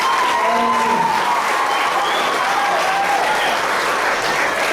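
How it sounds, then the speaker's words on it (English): A school audience at an inter-primary soccer celebration gives a big round of applause for a student player: dense, sustained clapping from a large crowd that stays loud and even throughout, with no talking. "Can we have a big round of applause?"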